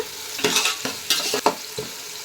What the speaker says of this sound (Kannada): ಇದನ್ನ ಚೆನ್ನಾಗಿ ಫ್ರೈ ಮಾಡ್ಕೊಳ್ಳೋಣ